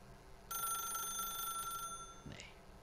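Telephone bell ringing in The Stanley Parable video game, a steady electronic trill lasting just over a second, fairly close and alone, followed by a brief soft clunk.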